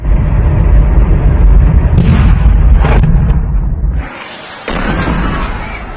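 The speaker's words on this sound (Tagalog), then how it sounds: "Isa pa sa mga tinamaan ay ang Kermanshah at maririnig pa ang mga pagsabog." Missile strikes in Kermanshah set off loud, rumbling explosions, with heavy booming blasts and sharp cracks rolling over one another amid dense low roar, briefly dipping before another blast surges back.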